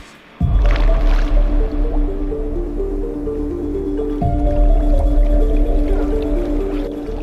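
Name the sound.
removing shoes underwater while swimming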